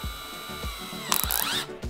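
A drill chuck being ratcheted tight with a 7/64 drill bit fitted, ahead of drilling out rivets while taking apart a computer case: a repeated series of close mechanical clicks with a quick rattling burst partway through.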